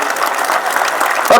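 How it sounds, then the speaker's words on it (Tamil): Brief burst of audience applause at a housing sales launch event in an auditorium, dense clapping filling the short moment before cutting off abruptly. "பாருங்க, கைத்தட்டல் கூட கேட்டாதான் கிடைக்குது."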